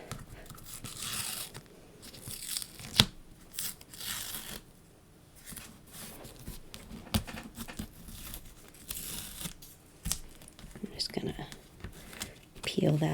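A sheet of stamps is peeled back from its backing, making soft crinkling and tearing rustles close by, interspersed with quiet talking throughout.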